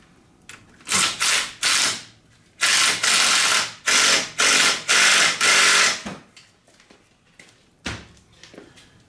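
A hand ratchet tightens a new bolt on a car's front brake hose at the caliper, with several loud, close bursts of rapid clicking separated by short pauses, then a final single burst.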